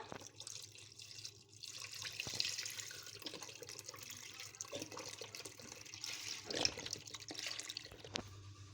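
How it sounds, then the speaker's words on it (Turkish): Milk pours into a pot in a steady liquid stream, close and moderately loud, running continuously with a few brief knocks and no talk. "Şimdi sütümü de ilave edeceğim burada."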